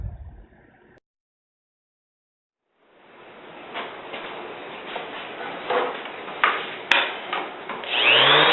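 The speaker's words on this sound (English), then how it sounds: "we are watching the pieces for the side of the box getting cut on the table saw sled" Table saw cutting side pieces for a wooden box on a sled, a steady whine following a short quiet gap, with irregular louder cutting bursts toward the end.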